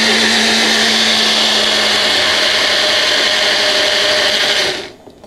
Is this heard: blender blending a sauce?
yes